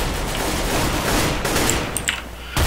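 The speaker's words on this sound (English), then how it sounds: "AK, this is a marksman's rifle here." AK assault rifle firing in CS:GO, a dense burst of rapid gunfire that continues steadily, loud and close, then breaks off before a final shot at the end.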